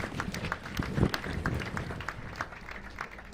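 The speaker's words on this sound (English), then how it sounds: "ladies and gentlemen, a round of applause." Audience at the Africa Climate Summit clapping in a hall, a lively round of applause with distinct nearby claps over a broader crowd patter, fairly loud and continuous.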